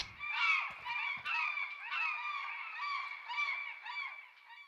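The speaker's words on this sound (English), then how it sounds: "some seagulls" Seagulls call repeatedly over a radio in the video game Garry's Mod, with a series of harsh honking cries, fairly clear but slightly thin and filtered, with a few low bumps.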